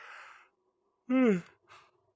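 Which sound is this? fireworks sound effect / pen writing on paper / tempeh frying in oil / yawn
yawn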